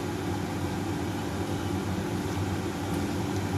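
Prawns frying in a pan with browned onions give a steady, even sizzle that holds at a moderate level throughout, with no talking.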